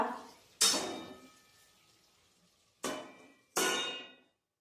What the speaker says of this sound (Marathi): आपण परत कढईवर एकदा झाकण ठेवूया।